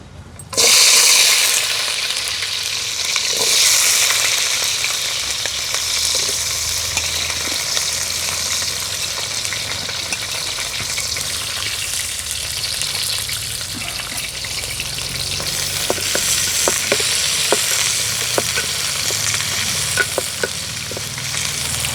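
Whole spices, onions and green chillies sizzle and crackle in hot oil in a pan, a loud close hiss that starts abruptly and carries on steadily with small pops and spatters throughout.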